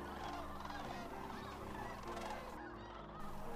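A wintering flock of sandhill cranes, including lesser sandhill cranes, at Bosque del Apache National Wildlife Refuge gives overlapping rolling, honking calls. The calls carry steadily at a moderate distance.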